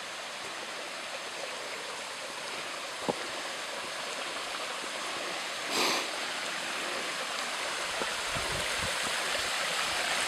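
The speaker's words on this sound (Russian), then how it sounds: "Выходим на русло ручья." A mountain stream flowing along its rocky bed on a hike up Mount Pikui, a steady broadband rush of water that carries on through the whole stretch, with a couple of faint knocks and a brief brighter splash partway through.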